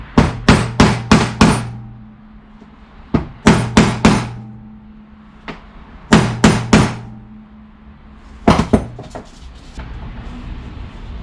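A hammer drives a slightly squashed part onto an engine, with sharp, loud metallic blows in rapid clusters of four or five and single strikes between them, ringing close by.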